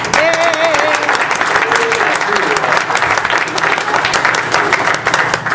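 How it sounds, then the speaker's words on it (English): An audience applauds steadily at a New Year's Day State of Morristown address, dense loud clapping throughout with a few voices calling out over it. "So again, I'd like to give her a round of applause."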